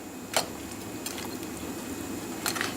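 A spoon gently stirs field mushroom soup in a pot, giving a few soft, scattered clinks against the metal over a quiet background.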